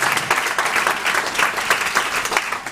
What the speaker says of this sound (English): so just give Dr. Morris one more round of applause.